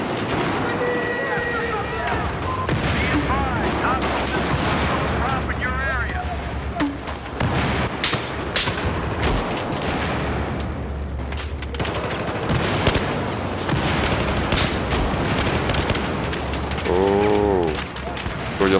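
Gunfire in the video game Battlefield 4: dense bursts of rifle and machine-gun shots with occasional heavier booms, nearly continuous and loud, while players talk over the shooting.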